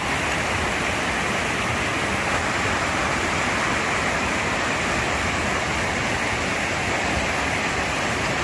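A clear, cool stream flows steadily beside a picnic spot, a constant close rushing wash of water with no breaks and no talking.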